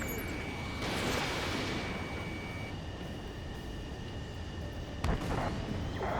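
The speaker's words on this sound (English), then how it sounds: "Missile." A missile launch in the flight combat video game Ace Combat 7 Skies Unknown: a loud whooshing rush amid a constant jet roar, followed by a sharp burst near the end.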